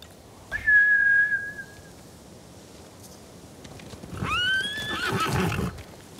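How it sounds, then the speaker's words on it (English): Horses neighing in the Ghost of Tsushima video game: one long, loud whinny, then a second shrill whinny a few seconds later over faint background ambience. "Bastards scared off the horses. They're samurai mounts,"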